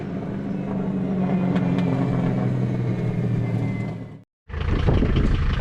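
A Mercedes 300 turbo diesel wagon with a straight pipe exhaust rumbles steadily and loudly at close range, cuts out for a brief moment, then resumes just as strongly.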